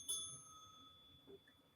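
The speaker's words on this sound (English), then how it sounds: "the timekeeper will ring the bell twice like this" A timekeeper's bell at a debate competition's opening ceremony, struck as a single bright ring that decays, followed by a faint second tap; heard alone and fairly quiet in a large room.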